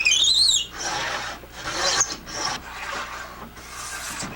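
A hand tool scrapes a groove into bow horn in repeated rasping strokes, about five passes with brief pauses between, close and fairly loud with no talk.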